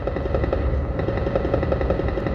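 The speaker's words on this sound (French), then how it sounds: "Ça tire là-bas." Rapid automatic gunfire in the Call of Duty Mobile battle royale game, a continuous dense rattle of shots that carries at steady loudness through the whole clip.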